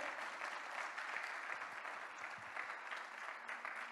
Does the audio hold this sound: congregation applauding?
yes